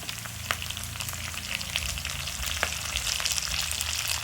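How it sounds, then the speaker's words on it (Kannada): Mint and coriander leaves fry lightly in oil, giving a dense, continuous sizzle close by with scattered pops and spatters throughout, no voices. "ಲೈಟಾಗಿ ಹಂಗೆ ಆಯಿಲಲ್ಲಿ ಫ್ರೈ ಮಾಡ್ಕೊಳ್ಳಿ"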